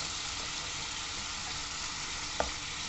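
Fish sizzles steadily in a pan with spices, a dense even frying hiss throughout, with one brief clink near the end.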